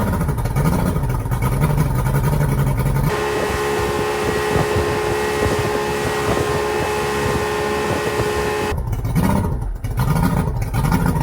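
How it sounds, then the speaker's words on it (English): A Yamaha VST outboard boat engine, just fitted with a new vapor separator tank filter, runs steadily with a droning mechanical hum and whine, framed by blustery wind noise on the microphone before and after. "All right, so the engine runs."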